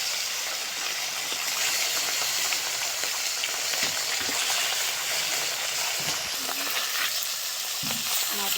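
Koi fish crackle and sizzle in hot oil in a wok, a steady dense frying hiss with occasional pops, close and loud throughout with no talking.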